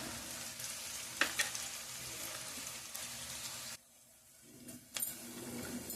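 Onions fry in a pan for chicken fry, a steady close sizzle with a brief scrape or two and a short drop in the hiss midway before it returns.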